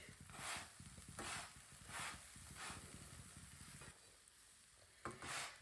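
A paratha fries in a hot pan, giving a steady soft sizzle broken by repeated bursts of louder hissing every half second or so as it is pressed and turned, close up and fairly quiet.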